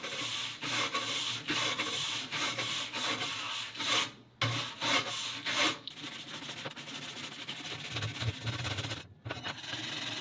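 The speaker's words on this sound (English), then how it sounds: "I've got a really coarse brush. And I'm just going to scrub the top of this." A coarse brush scrubs the rough top of an old wood stove in steady rhythmic strokes, a loud close scratching rasp with a few brief pauses.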